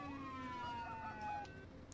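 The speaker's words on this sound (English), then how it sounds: "Let's get a siren check here, mate." A police car siren in the video game Farming Simulator, during a snowmobile chase roleplay, wails in falling electronic tones for about two seconds, moderately loud, with no talking.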